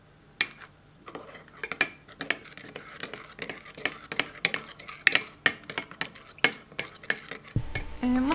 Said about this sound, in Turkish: 2 yemek kaşığı puding tozunu sütün içerisine ilave ettikten sonra güzelce karıştırdım.